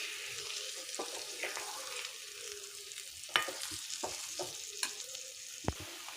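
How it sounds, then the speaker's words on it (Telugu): Cabbage and egg fry stirred in a pan over a medium flame produces a soft, low sizzle with intermittent scrapes and clicks of the spatula against the pan, a few sharper knocks standing out. "ఇది మీడియం ఫ్లేమ్లో పెట్టుకొని కలుపుకుంటూ ఉండాలండి, లేదంటే మళ్ళీ అడుగంటుకుంటూ ఉంటుంది."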